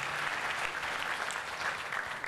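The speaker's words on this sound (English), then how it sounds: "So big round of applause for the team." Crowd applause for the event team at a Southeast Asian tech gathering, a continuous wash of many hands clapping at even loudness throughout, with no break.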